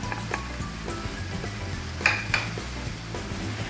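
Aloo keema with tomato sizzles steadily in a hot pan while being stirred, with a few louder scrapes and clinks of the spoon against the pan partway through; no talking.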